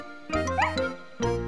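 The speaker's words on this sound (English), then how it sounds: "She just wagged her tail and gave a couple of happy barks." Snuffy, a cartoon dog, gives a couple of happy barks, two bright, close yips separated by a short gap and heard alone, with a light tinkling tone between them.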